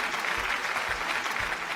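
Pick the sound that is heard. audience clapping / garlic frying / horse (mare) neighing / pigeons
audience clapping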